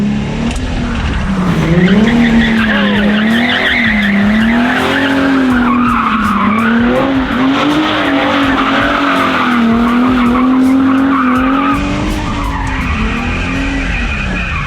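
A takeover car drifting on fresh tires, loud continuous tire squeal wavering in pitch over a revving engine, sustained and close.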